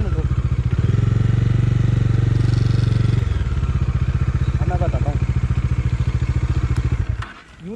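A Bajaj Dominar 400 motorcycle rides along a slippery, muddy monsoon road, its engine chugging loud and close with a steady, throbbing rhythm that eases off near the end, with faint scrapes and clatter from the wheels.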